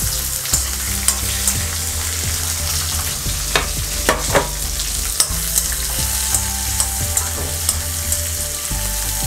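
Shallots and green chillies fry in oil in a pan for a prawn masala, a loud, steady close sizzle punctuated by occasional clinks and scrapes of stirring, with no talking.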